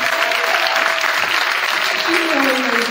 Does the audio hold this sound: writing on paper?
no